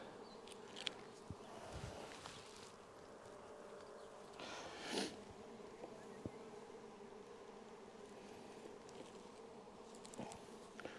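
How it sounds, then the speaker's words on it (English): Honey bees humming inside an open hive during a beekeeping inspection, with swarm cells, brood and drone comb present: a low, continuous, faint drone with small knocks and one brief rustling burst midway. "I'm not surprised that they are swarming because of the amount of bees in here."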